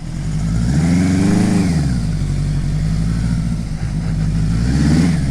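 A rebuilt Suzuki GS850 scrambler motorcycle engine revs loudly and up close on a test ride, pitch rising and falling through a throttle blip before settling into a steady, rumbling drone.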